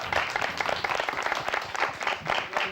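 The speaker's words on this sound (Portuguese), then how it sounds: "palmas para eles!" Audience applause for a pair of sound-poetry performers on a TV programme: clapping swells in pulsing bursts, fairly even and moderate in level, with no voices over it.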